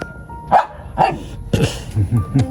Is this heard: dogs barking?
yes